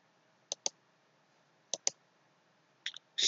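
Computer mouse clicks come in quick pairs, three double-clicks spaced apart, crisp and close against a quiet background during a VMware software installation.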